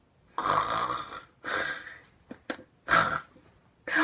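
A voice imitates a bear snoring with slow, rasping snores, several drawn-out breaths in a row followed by shorter snorts, close and fairly loud.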